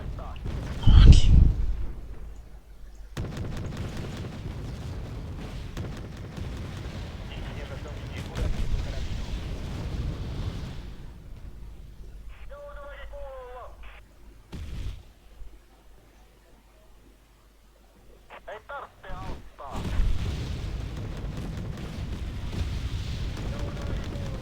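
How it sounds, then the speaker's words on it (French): Artillery and mortar fire in a motorcycle-versus-tank match of a war video game set on a rice-paddy map: deep rumbling booms and blasts, loud at first, then a steady low roar with quieter stretches and a resurgence near the end. "Il a beau m'envoyer de l'artillerie aussi"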